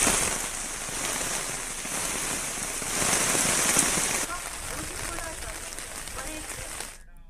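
Heavy, continuous rain pours down on a flooded city in Kashipur, making a dense, steady hiss that fills the whole stretch, with a voice speaking over it.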